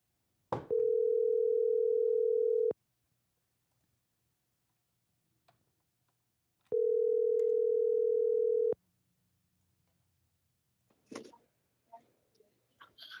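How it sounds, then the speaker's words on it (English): Telephone tone while a call connects, two steady, clear beeps about two seconds long with a long quiet gap between them, followed by faint clicks and rustling. "This is why we need the dialing music."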